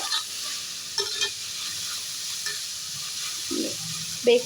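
Bread toast mixture stirred in a pan over a steady soft sizzle, with a few light scrapes and knocks of the spoon, close and fairly quiet, no talking.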